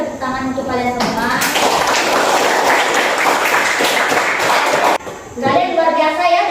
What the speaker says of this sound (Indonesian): Kemudian tepuk tangan untuk kalian semua.